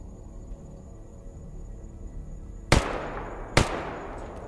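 Two distant gunshots in STALKER GAMMA crack out about a second apart over a quiet outdoor backdrop of insect buzz and low ambience.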